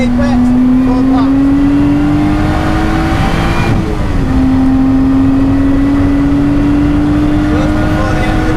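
A car accelerates hard on the Donington Park circuit, its loud in-cabin engine note climbing steadily, dipping briefly at a gear change, then rising again.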